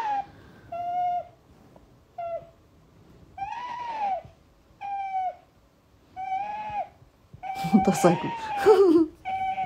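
An otter named Qoo makes repeated short nasal squeaks and chirps in a rhythmic series, close and clear, ending in a louder burst; a person speaks briefly among the calls.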